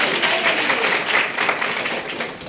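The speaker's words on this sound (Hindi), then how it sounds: "तालियां बजाइए भाई उनके लिए।" Students in a classroom give a teacher a round of applause, a steady, fairly loud burst of many hands clapping at once that tapers slightly toward the end.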